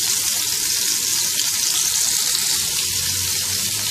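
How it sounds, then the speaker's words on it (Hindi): Kebabs fry in oil in a pan, giving a steady, dense sizzle that stays loud and even throughout with no talking. "इसमें ये कबाब डाल के फ्राई करेंगे"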